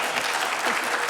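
An audience at a Mesa morning event breaks into applause, producing a dense, even wash of clapping that holds steady throughout.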